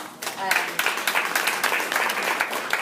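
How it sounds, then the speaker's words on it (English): Crowd gives a lively round of applause at an appreciation barbecue, sharp dense clapping building quickly after a quieter opening and staying strong to the end. "So I know we already gave you a round of applause, but I want to do it again"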